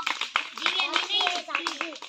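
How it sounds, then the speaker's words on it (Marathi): A group of children claps in quick, uneven bursts to welcome a girl named Divya; the clapping comes up close and mixes with excited children's voices calling out over it. "सगळे टाळ्या वाजवा."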